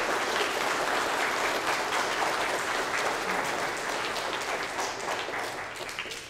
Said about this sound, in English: So we'll clap for a welcome.